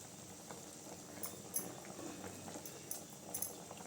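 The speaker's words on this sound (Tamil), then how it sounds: "குழம்பு நல்லா கொதிக்குது பாருங்க." Tomato kuzhambu curry simmering in a pot, a quiet continuous bubbling with soft pops and small splutters breaking through a low background hiss.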